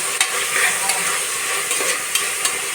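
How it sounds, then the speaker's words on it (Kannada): Tomato and potato fry in a pan for bisi bele bath while a spoon stirs them, a soft sizzle broken by several sharp scraping clicks, close and without talk. "ಒಂದು ಕಪ್ ಟೊಮೆಟೊ ಒಂದು ಕಪ್ಪು ಆಲೂಗಡ್ಡೆ ಮಾಡಿರೋದು ಹಾಕಿ ಚೆನ್ನಾಗಿ ತಿರುಗಿ"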